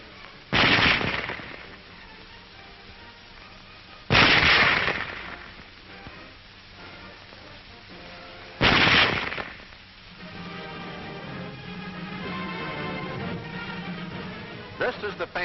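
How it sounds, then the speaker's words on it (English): Three loud cracks of a Mauser Model 98K bolt-action rifle ring out about four seconds apart, each with a short echo, over a steady background of old film hiss. "Loading and firing the Model 98K is the same as our own Springfield"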